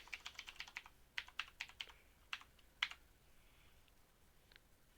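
Fingers type on a computer keyboard, giving quick, quiet clicks in a fast burst of keystrokes, then a few scattered taps before the sound fades to silence.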